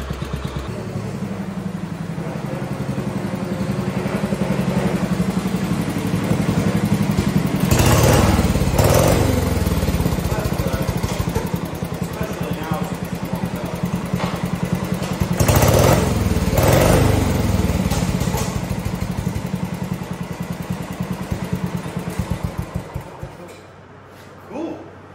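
A small engine fitted with solid state ignition runs steadily at close range, a buzzy, even chug with two brief swells in revs along the way, before it dies out near the end.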